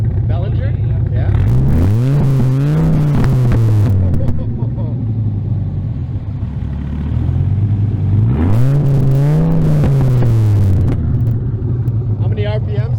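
Dodge Viper engine revving in repeated bursts, two rising sweeps that climb and fall, close and loud, with voices talking over the idling rumble between revs.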